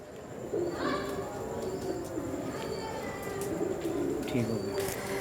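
Prince Kamgar pigeons coo softly in a loft, low repeated throaty calls rising and falling through the whole stretch, with light fluttering and small clicks mixed in.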